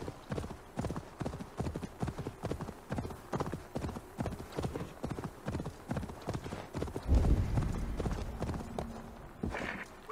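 Horse hooves clip-clop in a steady walking rhythm in Assassin's Creed Valhalla, close and continuous, with a brief snort or whinny near the end.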